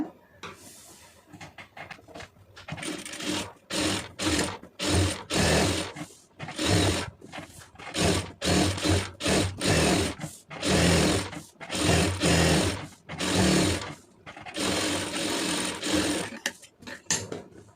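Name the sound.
sewing machine stitching around an Aari blouse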